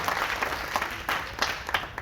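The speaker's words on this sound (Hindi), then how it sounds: "जोरदार तालियां एक बार" An audience at an all-India Hindi poetry gathering in Mumbai breaks into applause, a dense wash of clapping that swells in a few bursts over a couple of seconds.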